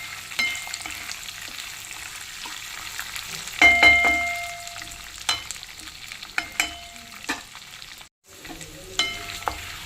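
Garlic and other ingredients fry on medium heat for atukula mishri, a steady sizzle broken by sharp scrapes and clinks of a spoon stirring the pan, with a brief silent gap near the end.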